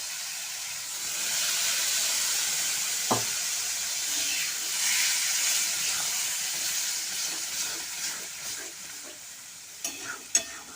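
Boiled dal poured into hot oil in a pan sets off a loud, steady sizzle and hiss that holds for several seconds, then slowly eases, with a few sharp clinks of a utensil near the end.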